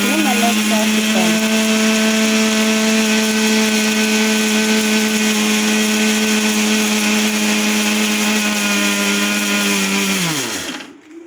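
A kitchen mixer grinder whirs at a steady high pitch as it grinds onions and garlic into a smooth paste for crab curry, running loud and constant before winding down at the end.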